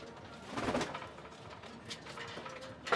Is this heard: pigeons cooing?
yes